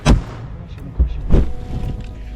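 Ammunition detonated by a grenade inside a trench dugout goes off in several heavy booms and thuds, the first sharp and close, followed by rumbling bursts and scattered cracks.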